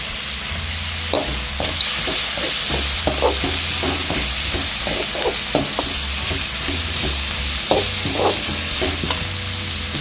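Onions, chili, cinnamon and fennel sautéing in oil in a pan for a Kerala chickpea curry, with a loud, steady sizzle broken by repeated scraping strokes from a stirring spoon and no talking.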